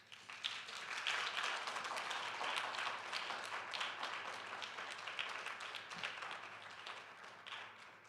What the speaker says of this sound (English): They deserve a huge applause.